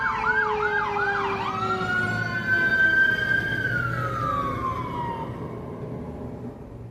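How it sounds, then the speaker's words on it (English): A wailing fire truck siren sweeps up and down as it passes, loud at first and then fading into the distance over steady traffic rumble. "There's like a fire truck or something going by."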